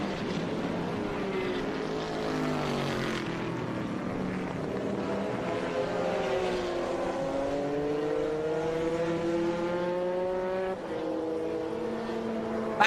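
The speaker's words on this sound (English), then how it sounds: "That Corvette sounds so good." A Corvette race car engine howls around the Laguna Seca circuit, sustained and loud with rising and falling harmonic pitch sweeps as it accelerates and shifts, close and continuous for the whole stretch without talk.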